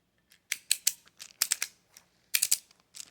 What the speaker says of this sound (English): Close up the ratchet. You can do this by pushing here and close it.